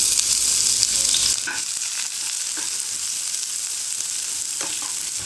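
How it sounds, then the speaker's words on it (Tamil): Thinly sliced onion hits hot oil in a kadai with a loud, steady sizzle and crackle, settling slightly after a stir, with occasional soft spoon scrapes against the pan. "இப்போ இந்த வெங்காயத்தை நான் ஆட் பண்ணிக்கிறேன்."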